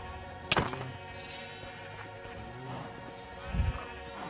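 Sheep bleat in the Minecraft world of the EarthMC server, with a sharp thunk near the start and a soft low knock later, the bleats faint and layered at low volume.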